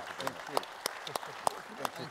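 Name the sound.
audience applause at panel debate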